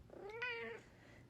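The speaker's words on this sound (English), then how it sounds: "And my cat just keeps meowing at exactly the right times." A pet cat gives a single clear, drawn-out meow with a rising then falling pitch, close and fairly quiet against a soft room hush.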